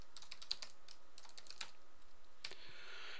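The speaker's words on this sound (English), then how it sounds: "this is a pain to type" Code is typed on a computer keyboard in a short burst of quiet, close clicks, irregular and spaced out over about three seconds, ending with a brief faint hiss.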